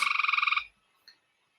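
A male frog calling from a tank gives a rapid pulsed trill lasting about half a second, loud and close, followed by a short faint chirp.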